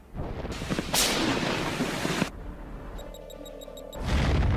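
A Leopard tank fires its main gun at Russian tanks in a combat recording, a heavy blast followed by a long rumbling roar and a second boom near the end, loud and close, with no talking.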